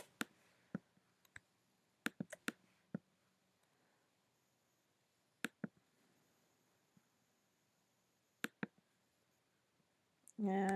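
Sharp, isolated computer mouse clicks come in irregular bursts, single and double, close and crisp against near silence while a photo's background is being cleaned up in editing software.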